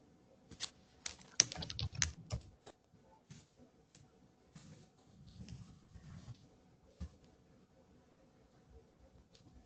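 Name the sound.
typing on a computer keyboard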